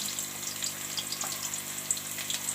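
Sliced onions go into hot oil in a pan for kofta, giving a steady, even sizzle and crackle that holds at a moderate level with no voices over it.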